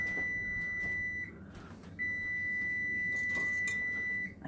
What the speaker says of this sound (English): a very annoying buzzer there